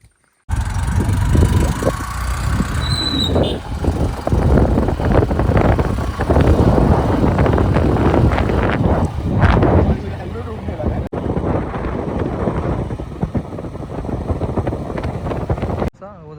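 A Honda Shine motorcycle ridden on the road toward Ratnagiri in Konkan, a continuous loud engine drone mixed with heavy wind buffeting on the microphone, occasional brief voices under it.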